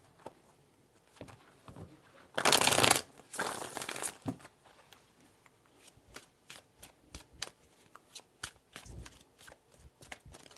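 Tarot cards are shuffled nearby in a scatter of light taps and slides, building to a loud, sustained riffle, then more bursts, followed by a long run of crisp card snaps and shuffles.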